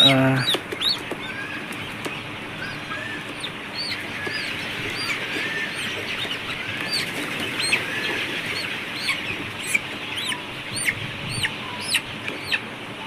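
Chickens on a poultry farm, Sonali super hybrid birds, clucking and chirping repeatedly at moderate distance over a steady background hum, with short calls scattered throughout.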